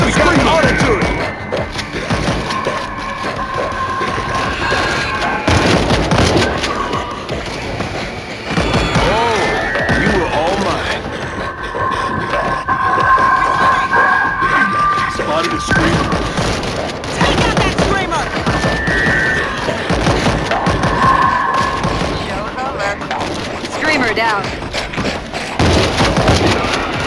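Continuous gunfire in World War Z on Nintendo Switch, dense thudding shots and booms rattling for nearly half a minute amid combat noise, with voices talking over the fighting.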